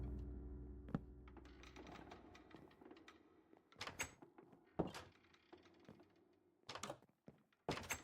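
Door noises in the Minecraft horror mod Wonderland.jar: several hollow thuds and knocks land at irregular intervals over a quiet, low game ambience, with no talking.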